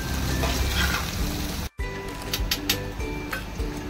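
Okra frying in oil in a pan, loud continuous crackling sizzle, a brief cut, then more sizzling with intermittent stirring clatter; no talking.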